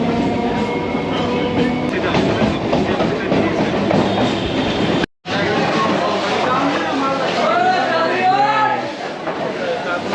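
A train runs along a railway track in Kolkata, giving a continuous loud rumble and clatter that fills the whole stretch, with a brief dropout midway and voices chattering throughout.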